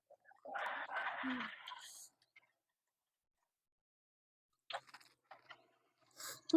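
Som tam papaya salad eaten with khanom jin rice noodles: crisp, close chewing and crunching in short bursts separated by quiet pauses, faint and intimate.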